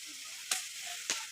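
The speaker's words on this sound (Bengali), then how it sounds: "আলুগুলোকে সুন্দর করে ভাজবো।" Potatoes fry in hot oil with a steady soft sizzle, broken by two brief scraping stirs of a utensil, close and quiet.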